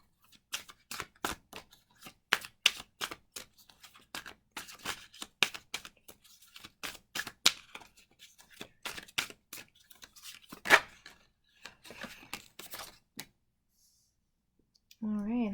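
Tarot cards are shuffled by hand in quick bursts of crisp riffling clicks and flutters, close and fairly quiet, pausing briefly between passes before a voice begins at the very end.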